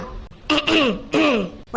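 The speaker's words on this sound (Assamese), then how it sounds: "ডিঙিটো অকমান ফ্ৰী কৰি লৈছো আকৌ" A cartoon character clears their throat in a few short, gruff, voiced rasps, loud and close, with brief pauses between bursts.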